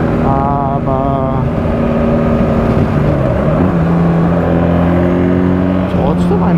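A BMW R1300GS motorcycle engine on a dynamic test ride, its steady drone rising and falling with revs and shifts, loud and close throughout, with a rider's voice talking over it.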